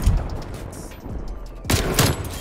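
Bursts of gunfire in Black Ops Cold War multiplayer, sharp shots near the start and a louder cluster of rapid fire toward the end, with quieter game noise between.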